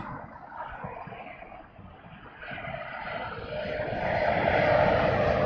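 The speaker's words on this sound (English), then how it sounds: "this is a KLM coming in" A KLM airliner comes in to land at Heathrow, its engine rumble and whine building steadily louder as it approaches, with no talk over it.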